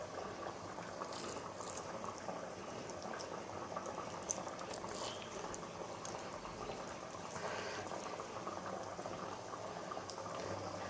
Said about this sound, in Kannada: ಸಾಂಬಾರು ಕುದೀತಾ ಇದೆ